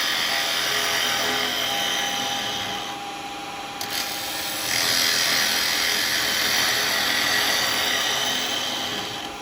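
A chisel hollows out wood on a turning lathe, giving a continuous loud, hissing scrape with a steady drone underneath that briefly eases and then returns stronger.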